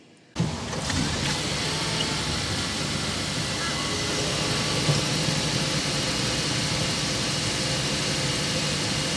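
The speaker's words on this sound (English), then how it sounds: "We're gonna try to start it so you can hear the way the exhaust sounds." A 2023 Honda Accord Hybrid Touring starts up after a brief silence, then settles into a steady, quiet idle with a broadband hum and exhaust note that runs unbroken for several seconds.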